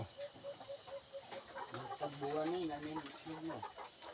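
Ready-to-lay layer chickens, a first delivered batch at a farm yard, clucking and calling in short repeated bursts, close by, over a constant high insect-like hiss with faint voices nearby.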